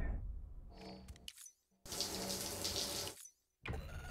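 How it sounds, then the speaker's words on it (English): Shower water runs in Death Stranding, a steady hiss that starts after a short pause, cuts off, then returns, with quieter handling noises before it. "Let's have him use the shower, though."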